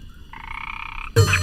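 A frog gives a single sustained croak in a Hindi film scene, a loud buzzing call lasting about a second, followed by a sharp burst of louder sound.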